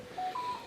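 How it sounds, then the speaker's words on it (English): A mobile phone goes off at a table during Christmas crafts and games, giving a brief, faint electronic alert of two short rising tones. "That's just my phone going off."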